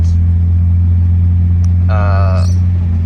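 Skid car engine idling roughly in park with the aircon on, a steady low rumbling drone close by that sags as if about to stall, with a short whining tone partway through.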